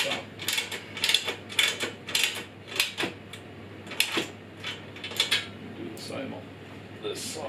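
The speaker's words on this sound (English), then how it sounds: "it's a 10 millimeter spanner to tighten the bolt down." A 10 mm spanner tightens a bolt while a Parkside table saw from Lidl is being assembled, giving a run of light metallic clicks and ratcheting taps close by, with a low steady hum underneath.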